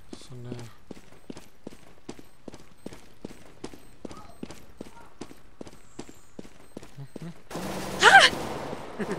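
Distant gunfire in a Counter-Strike: Global Offensive round, a steady run of faint, regular shots for several seconds, ending in a louder burst of game noise.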